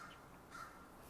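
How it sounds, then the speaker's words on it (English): Faint crow caws come through distant, airy background noise, a couple of short harsh calls and no voices. "listen to our crows"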